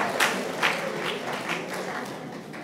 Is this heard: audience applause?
yes